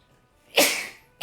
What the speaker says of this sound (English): That's what we call a sneezer.